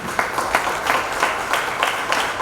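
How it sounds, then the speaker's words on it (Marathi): Audience applause at an evening literary event, fairly loud clapping from a crowd in short rhythmic bursts across the whole stretch. "जोरदार टाळ्या"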